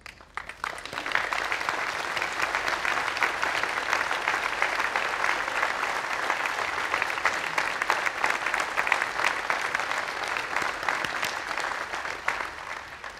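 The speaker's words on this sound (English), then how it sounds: "I invite you to join me in applauding their long and distinguished service" Sustained audience applause at a university commencement ceremony honoring retiring emeriti faculty, a dense steady wash of many hands clapping that holds throughout and tapers slightly at the end.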